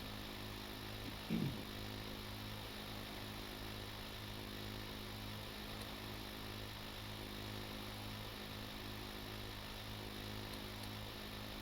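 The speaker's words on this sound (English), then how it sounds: "Alright, we're ready to drill again." Steady mechanical drone of an oil well drill running in the game Stormworks, a constant engine-like hum that continues alone for the whole stretch, with one brief knock early on.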